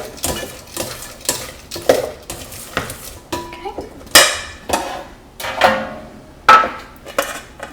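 Red cabbage tossed with olive oil and a pinch of salt in a bowl, giving a series of clattering, scraping knocks of utensils against the dish, about a dozen sharp hits at an uneven rhythm, close and fairly loud.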